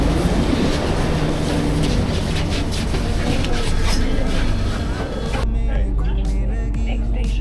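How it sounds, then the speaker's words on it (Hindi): Delhi metro train on the Noida line pulling into a station, a loud, steady rumble and rail noise near at hand that shifts abruptly toward the end, with station background noise throughout. "मेट्रो आ भी गई।"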